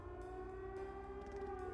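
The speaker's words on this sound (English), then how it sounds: "Those sirens?" Sirens in Trails of Cold Steel wail steadily over layered game music, a sustained droning tone that stays constant throughout.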